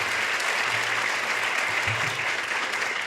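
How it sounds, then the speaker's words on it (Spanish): A congregation at a church groundbreaking Mass for a new parish temple breaks into sustained applause, a dense, even wash of clapping from start to finish. "Al final aplaudimos"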